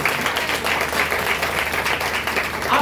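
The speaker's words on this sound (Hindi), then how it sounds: "कम ऑन, ताली बजाएं और उसको महिमा दें।" A congregation at a church blessing meeting claps together, a dense, steady wash of applause filling the room throughout, loud and close, with faint voices mixed in.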